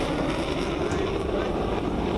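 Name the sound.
fighter jets roaring overhead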